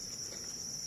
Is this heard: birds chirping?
no